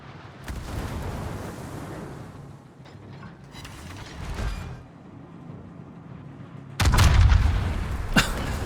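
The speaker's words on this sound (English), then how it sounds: "Another salvo, another fire." Heavy warship gun salvos in the naval game World of Warships, aboard the battleship Musashi, booming rumbles rolling through the clip before a loud close salvo near the end.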